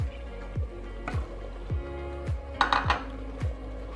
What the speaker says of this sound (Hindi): आलू डालते हैं